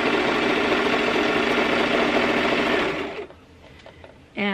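A sewing machine stitches fabric at steady speed with a loud continuous motorized whir, running for about three seconds before stopping, leaving quiet clicks and a brief burst at the end.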